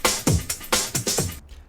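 A snare drum from a breakbeat sample rings out in a short run of crisp, bright hits mixed with punchy low thumps, played close and fairly loud before cutting off abruptly.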